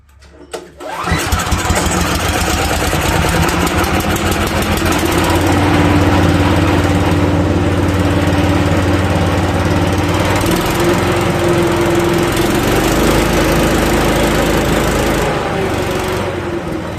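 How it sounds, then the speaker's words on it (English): A 14 horsepower Kohler engine on a commercial walk-behind mower cranks and catches, then runs loud and close at a steady idle with a low throbbing hum that later eases slightly. "I'm going to see if it'll start up."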